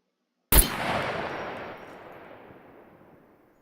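A single sharp, loud unsuppressed gunshot in the SCUM video game cracks out, followed by a long rumbling echo that fades slowly over about three seconds.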